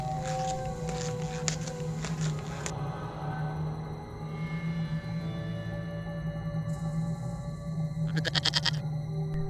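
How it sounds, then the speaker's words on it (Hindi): A cartoon goat lets out drawn-out, wavering bleats over a background music bed, with a brighter burst of sound near the end. "अरे, ये बकरी भी इस गुफा में क्यों चली गई?"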